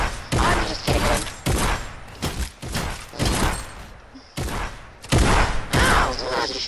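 Gunfire in the Fortnite video game, loud bursts of rapid shots in several clusters with brief gaps between volleys, close and dense.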